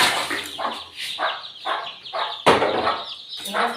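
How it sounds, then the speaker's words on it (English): Chickens in an African village cluck in a steady, close series of bursts, with a louder squawk partway through and the flock busy throughout. "We have chicken here."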